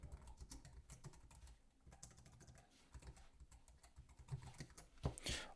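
Quiet, rapid clicking of keys comes from typing on a keyboard connected to a Redmi Pad 2 Pro tablet, an irregular close patter with a slightly louder burst of taps at the end.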